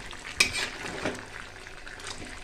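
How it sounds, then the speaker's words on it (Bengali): Papaya is stir-fried for a meat dish, with a utensil scraping and clinking in the pan over a faint sizzle. There is one sharp knock near the start, then lighter stirring. "তো ভালো করে পেঁপেগুলো কিন্তু কষাই নিব"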